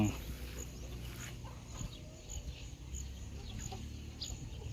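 Farmyard chickens, a mix of breeds grazing on grass, cluck faintly and intermittently in the distance against a low outdoor rumble.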